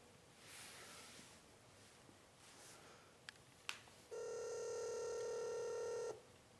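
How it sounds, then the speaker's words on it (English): A phone tone sounds as one steady two-second electronic ring, close and fairly loud, after quieter background rustle and a couple of sharp clicks. "It's ringing."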